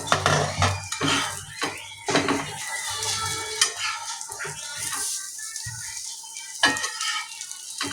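An aloo tikki turned over in a frying pan, with metal scrapes and clanks of a spatula against the pan over a soft sizzle, several sharp knocks spaced through the stretch.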